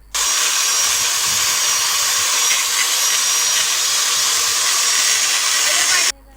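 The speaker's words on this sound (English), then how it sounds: "This is how Dad is cleaning carbon with the help of drill machine." A drill machine scours carbon deposits off the cylinder head of an old Royal Enfield Bullet engine, a steady high whirring grind that runs unbroken at close range for about six seconds, then cuts off.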